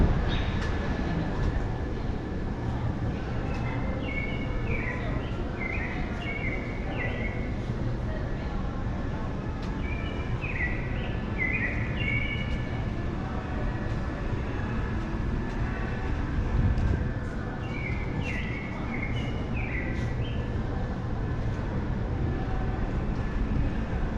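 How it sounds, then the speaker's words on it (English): Recorded chirping bird sound effects play in a public area aboard the Royal Caribbean cruise ship Allure of the Seas, repeated short trills in clusters over a steady background hum of the ship. "I love those fake bird sounds."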